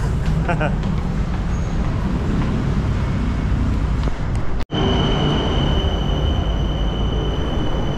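Steady loud rumble and rattle of a moving train in Bangkok from inside a carriage, with voices talking over it and a brief dropout partway through.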